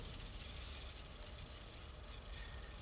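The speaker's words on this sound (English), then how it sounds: "Just really let the sandpaper do all the work here." Sandpaper rubs steadily across the painted surface of an Italeri plastic model kit during polishing, giving a soft, continuous, close-up rasping hiss. The rhythm stays even and the sound is faint, with no voices.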